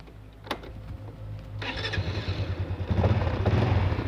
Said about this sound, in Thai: นี่เครื่องติดแล้วนะครับ แทบไม่ได้ยินเสียงเลยเสียงนิ่มมากเลยครับ